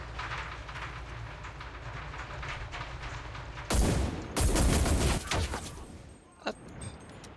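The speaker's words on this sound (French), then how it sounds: "Ça m'a tiré dessus et je le vois." Gunfire sounds in the video game Cuisine Royale: after a stretch of low ambient rumble, a sudden loud burst of shots breaks in, then trails off, followed by a single sharp report near the end.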